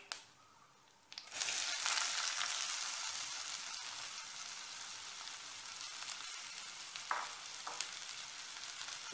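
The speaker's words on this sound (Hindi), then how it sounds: "हमारा ऑयल गर्म हो चुका, हमने पंचफोरन डाल दिया और अब ऐड करेंगे थोड़ी" Panch phoron spices and asafoetida sizzle in hot oil while cooking onion kachori, a loud steady frying hiss that starts after a second of quiet and holds throughout, alone with no voices.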